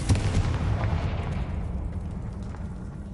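Confringo blasting-curse explosion from Hogwarts Legacy, a loud booming blast at the start that rolls off into a rumbling, fading roar over a few seconds with no talking.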